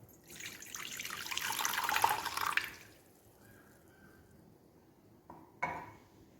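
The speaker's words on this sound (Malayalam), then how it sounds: "ഇനി നമുക്കിത് ഇരുമ്പിൻ്റെ ഒരു ചട്ടിയിലേക്ക് ഒഴിച്ചു കൊടുക്കാം കേട്ടോ" Strained tea water pours into an iron pan with a steady splashing stream that swells and then fades, followed by a few faint clinks and a short splash.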